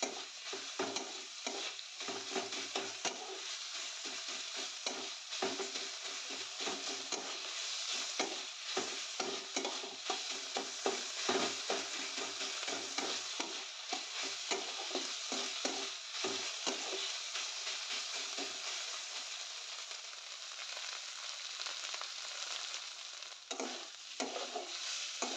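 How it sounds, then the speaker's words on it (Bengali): Chicken frying in a pan with chopped onions and green chillies for a chicken sandwich, a steady close sizzle with frequent stirring scrapes throughout, no voices. "এখন পেঁয়াজ কাঁচা লঙ্কা দিয়ে আরও খানিকক্ষণ চিকেনটাকে ভেজে নেব।"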